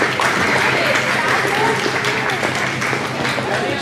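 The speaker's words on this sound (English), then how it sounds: "Give them a round of applause." Spectators at a junior girls' Latin dance competition final clap continuously as couples take the floor, with an announcer's voice over the steady applause.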